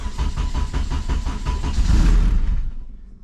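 A 2008 Mugen Civic Si built for all-wheel drive cranks and fires up close and loud, settling into a lumpy idle before the sound cuts off.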